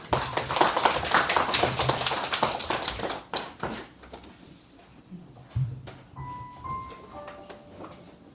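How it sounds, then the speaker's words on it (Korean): A church congregation claps together during a worship service, dense applause that breaks off after about three seconds and trails into a few scattered claps, taps and soft tones in a quiet room. "박수로 합니다."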